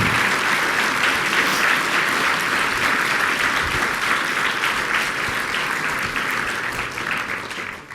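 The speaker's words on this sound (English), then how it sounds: "So a big round of applause to Eleanor and Jack." Audience applause fills the hall after an evening talk on cancer research, a dense, steady clapping from a large crowd that holds at full strength and tapers slightly toward the end, with no voices over it.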